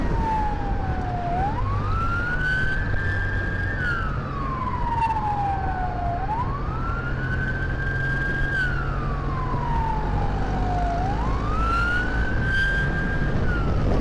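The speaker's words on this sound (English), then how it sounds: "oh, there's an ambulance there" An ambulance siren wails in a slow rising-and-falling cycle on the road during an evening drive home, loud and steady throughout with car engine and road noise underneath.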